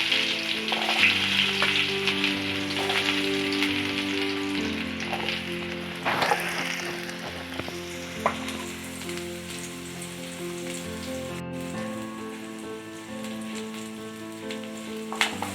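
Chopped onion with cumin seeds sautéing in a pan for dosa, a steady bright sizzle and crackle with occasional stirring scrapes, close and continuous under quiet background music, without any talking.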